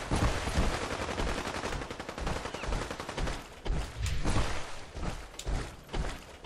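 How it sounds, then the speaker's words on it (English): Video game gunfire in Fallout 4's Nuka World: rapid bursts of automatic shots and scattered single cracks, loud and close, coming in uneven volleys throughout with no talk. "Who are these guys shooting at?"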